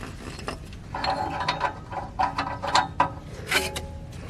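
Ratchet tightening an upstream O2 sensor socket on a BMW E36, a close series of rapid clicking pawl strokes in uneven bursts, no talking.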